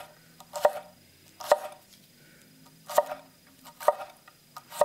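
A sushikiri-shaped kitchen knife chops garlic on a cutting board, giving five sharp, separate knocks spaced roughly a second apart, close and crisp, with no talking.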